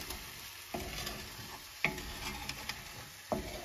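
Eggs cooking gently in a pan while being stirred, a soft low sizzle under occasional scraping taps of a utensil against the pan, fairly quiet and close.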